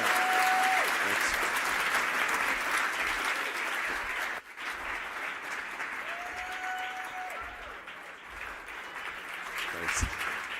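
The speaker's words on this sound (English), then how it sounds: "Let's give George a big, huge round of applause" Sustained applause from a conference audience in a large hall, steady and full throughout, with a few faint voices and brief thanks audible beneath the clapping.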